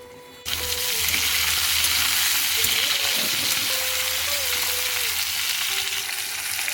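Potato and pointed gourd pieces fry in hot oil in a pan, a loud, steady sizzle that starts abruptly and holds evenly, with faint clinks underneath and no talk.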